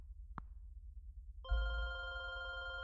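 A telephone bell rings loudly and close after a brief knock-like tap, the harmonic ring sustaining to the end with no speech.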